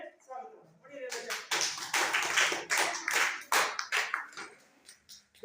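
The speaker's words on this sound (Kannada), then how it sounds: "ಎಲ್ಲರೂ ಚಪ್ಪಾಳೆ ಮೂಲಕ ಅವರನ್ನ ಏನ್ ಮಾಡೋಣ ನಿಮಗೆ ಸ್ವಾಗತ ಮಾಡೋಣ" Students in a ninth-grade classroom break into a burst of hand clapping to welcome an arriving group, the claps loud and close, irregular and overlapping for several seconds after a brief quiet start.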